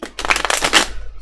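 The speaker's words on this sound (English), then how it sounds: "hopefully the noise of the shuffling isn't going to be too loud" A deck of tarot cards being riffle-shuffled, a loud dense burst of rapid flutter lasting about a second, close and alone.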